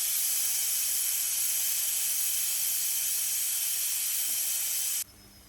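Steam hisses steadily from a pressure cooker after cooking potatoes and mutton, a loud, continuous high-pitched release that stops abruptly near the end, leaving faint room noise.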